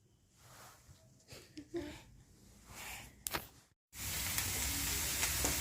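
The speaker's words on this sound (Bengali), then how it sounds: "মানে আলুটা ভেজে নিচ্ছি" Potatoes fry in a pan in a home kitchen, quiet clatter and stirring at first, then a brief pause before a loud, steady sizzle takes over.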